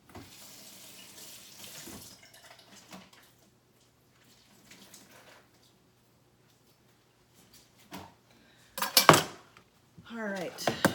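A cutting board is set down in a kitchen sink with a brief clatter, then the tap runs in a short splashing burst after long quiet stretches with faint background sounds.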